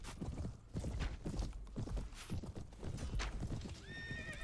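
Horses gallop in Mount and Blade Warband, fast hoofbeats pounding amid battle noise, with a high whinnying neigh rising near the end.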